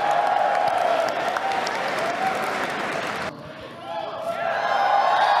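A big crowd claps and cheers at the Sony E3 2015 press conference, loud dense applause with a voice over a speaker system, dipping briefly before rising again.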